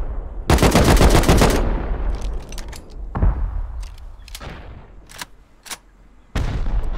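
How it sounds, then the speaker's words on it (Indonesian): Loud automatic gunfire in the survival game Rust: a dense burst of rapid shots, then several separate single and double shots spaced out, with another burst starting at the end. "Ni aku tembak."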